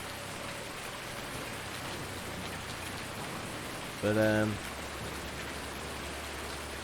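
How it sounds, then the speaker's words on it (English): Steady rain in Farming Simulator 2019 hisses evenly and continuously at moderate level, with a brief tonal blip in the middle and a voice speaking low beneath it. "Well, I do love the rain effects."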